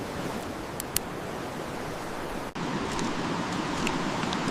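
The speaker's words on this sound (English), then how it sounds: "That river sounds way louder than it should." A jungle river rushes loudly and steadily, a dense broad roar of rising water filling the scene with no voices.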